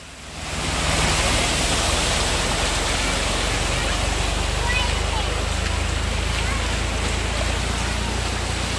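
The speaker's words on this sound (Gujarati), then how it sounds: "વરસાદ બહુ છે ને" Heavy monsoon rain pours over flooded farm fields in a dense, steady, loud roar that rises within the first second and holds without a break.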